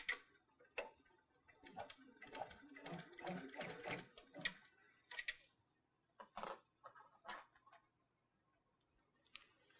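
An embroidery machine stitches a crochet-inspired design in a short, quiet mechanical burst of several stitches, then stops; scattered soft clicks and snips follow as threads are trimmed.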